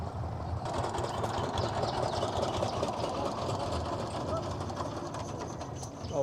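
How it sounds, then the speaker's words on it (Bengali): A trawler boat passes while carrying dredger pipe, its engine chugging in a steady, fairly loud and continuous drone close by for the whole stretch. "এই যে একটা ট্রলার আসতেছে"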